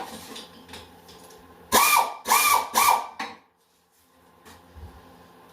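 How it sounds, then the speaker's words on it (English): Pneumatic air ratchet working on bolts of a John Deere 314 garden tractor during engine removal: three loud, close bursts of whirring and rattling in quick succession, separated by brief pauses, with quieter shop clatter before and after. "don't know if I'm gonna be able to reach those with the air ratchet"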